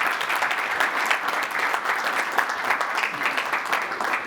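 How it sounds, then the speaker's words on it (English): Audience at a postmasters' conference breaking into sustained, dense applause, steady clapping from a large crowd throughout with no talk over it. "So can we give them another round of applause?"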